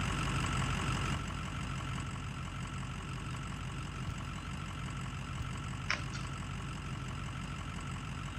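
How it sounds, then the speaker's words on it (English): A loud monster truck engine idles in the off-road game Spintires, a steady, rumbling drone held throughout with a brief click partway through. "Truck is really loud."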